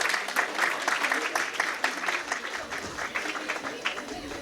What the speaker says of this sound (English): So you can clap for yourself for your active participation